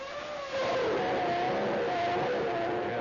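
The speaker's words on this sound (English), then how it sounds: "Traction control working, but the misfire as Damon goes away, but that's a deliberate misfire." A 1993 Formula One car with traction control pulls away at the Brazilian Grand Prix, its loud, high engine note stuttering with a deliberate misfire as it accelerates off.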